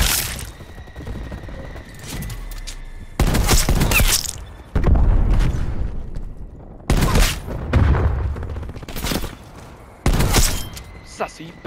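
Bursts of loud gunfire from a hand cannon in Black Ops Cold War: heavy, booming shots fired in spaced clusters, with quieter stretches between them and faint chatter underneath.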